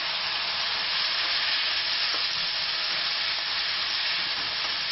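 Pieces of raw green tomato and green chillies frying in a pan give off a steady, loud, unbroken sizzle with faint crackles, and no voices are heard.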